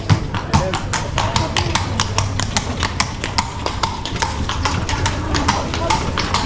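Horse hooves clip-clopping on a hard town street in Bruges, Belgium, in a steady rhythm, close and crisp, with faint voices in the background.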